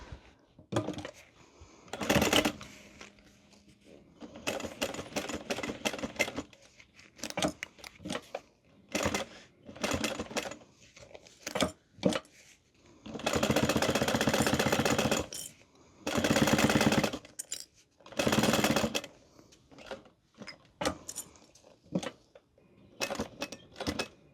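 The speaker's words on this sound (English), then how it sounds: "Okay, and then we are going to top stitch around this." A sewing machine top stitches around a crossbody bag, running in repeated bursts of rapid, even stitching with short pauses between runs while the fabric is turned and repositioned; close and fairly loud, with no talking.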